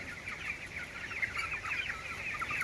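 Chickens cluck continuously on a broiler poultry farm, a dense chorus of many birds close by, steady and moderately loud with no voices.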